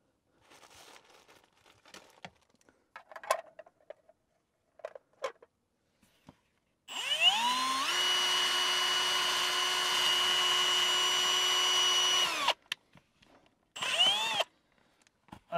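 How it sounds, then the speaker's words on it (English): A power drill drilling straight up toward the roof for a radon mitigation system whines steadily for several seconds close by, bracketed by scattered handling clatter and short bursts before and after. "Start at an angle and then drill straight up."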